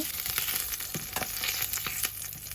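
Fish frying in hot oil in a pan, a steady close sizzle and crackle with occasional louder spits and stirring clinks, no voices.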